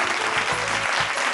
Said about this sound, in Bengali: জোরে একটা হাততালি প্লিজ